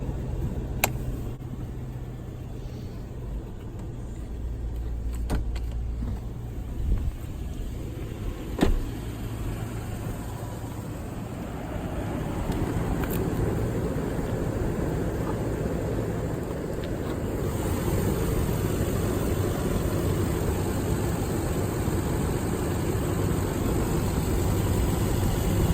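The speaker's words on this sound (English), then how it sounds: "This is the V8 that's been carried forward from the 100 series, but Toyota have tuned this engine in a few ways." A Toyota Land Cruiser 200 Series V8 idling with the hood open, a steady low rumble and hum that thickens after a few clicks and small knocks, continuing evenly nearby with no speech.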